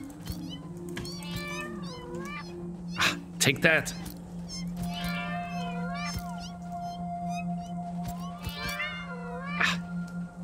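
Cats in the video game Satisfactory meow and caterwaul repeatedly with wavering, drawn-out cries over a steady machine hum, while a person talks throughout.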